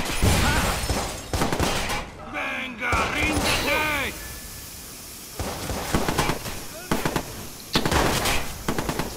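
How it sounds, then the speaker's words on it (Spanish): Bursts of rapid gunfire crackle from Watch Dogs game audio alongside shouting voices, loud and busy, with sharp repeated shots in clusters. "¡Se oyen tiros!"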